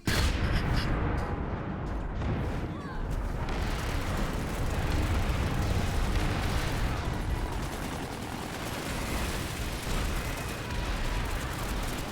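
Frag grenade explosion in PlanetSide 2 amid a continuous roar of battle, a loud dense rumble of blasts and gunfire that fills the whole stretch with no clear gaps.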